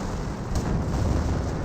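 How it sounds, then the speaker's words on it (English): A large explosion in the Company of Heroes 1 battle game booms loud and broad, a sustained low rumble with a brief sharp burst near the middle. "Big explosion there."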